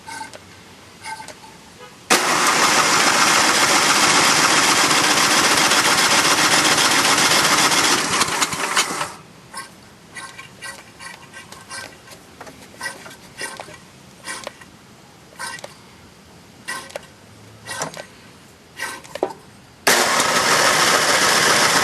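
A John Deere 1026 tractor cold start: the starter motor cranks loudly and continuously for several seconds, then the engine sputters and catches unevenly in short bursts before another long cranking run, close and alone.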